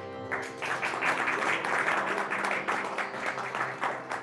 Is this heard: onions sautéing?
no